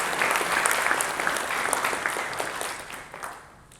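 Audience at a lecture on transgender people in today's culture breaks into applause, a full, even clatter of many hands that holds steady, then thins and fades away near the end.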